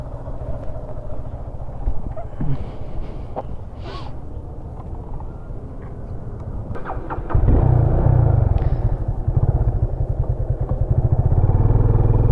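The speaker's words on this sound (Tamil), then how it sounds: "இங்கே அப்படியே பைக்கை மாற்றிட்டு வலிக்கிட்டு போயிட்டு இருக்கிறோம்" Motorcycles ridden along a road in Sri Lanka, a continuous engine drone and road rumble that swells sharply about halfway through as a bike revs up and passes close, loud throughout.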